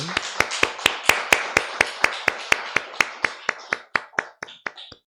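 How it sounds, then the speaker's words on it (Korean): A church congregation claps in a slow, even rhythm of about twenty sharp, loud claps, slightly slowing and thinning out toward the end, with no talk over them. "우리 다시 한번 뜨거운 축복의 박수 드리겠습니다"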